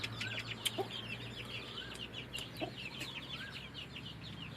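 Chickens clucking and calling steadily at close to moderate distance in a rural Thai yard, with faint bird chirps and a low hum underneath, no talk.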